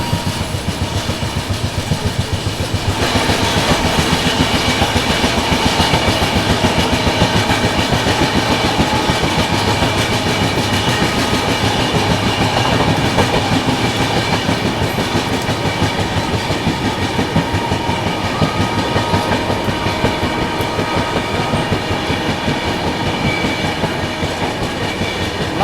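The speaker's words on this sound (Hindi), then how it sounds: "फाइनली हम लोग ओवरटेक कर रहे हैं कर्नाटका संपर्क क्रांति एक्सप्रेस को बल्लभगढ़ पे" Steady loud rumble and rhythmic clickety-clack from inside the Chennai Duronto Express as it runs and overtakes another train near Ballabhgarh, continuous throughout with no talk.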